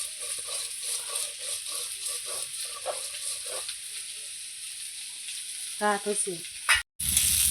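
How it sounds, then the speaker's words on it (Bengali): Potatoes fry in a pan for a potato, soybean and string bean curry, giving a steady close sizzle with soft utensil scrapes and a brief clatter near the end. "এরকম আলুটা ভালো করে ভাজা হয়ে গেছে"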